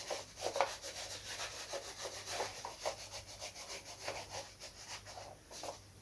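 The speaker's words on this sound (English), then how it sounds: "use a pencil to rub the shape on the edge" A pencil is rubbed back and forth across an edge to trace its shape, making a soft, close, scratchy rasp in an even rhythm of repeated strokes. The sound stays quiet throughout.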